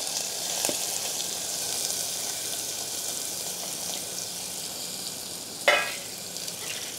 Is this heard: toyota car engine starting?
no